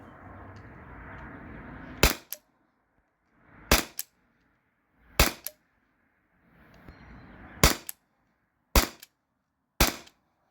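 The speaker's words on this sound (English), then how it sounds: "Six shots." Six sharp shots from a T4E P2P HDP50 Gen2 13-joule pistol, fired at a target 24 feet away, crack out loud and close at irregular intervals of one to two seconds, each followed by silence or a faint metallic rattle.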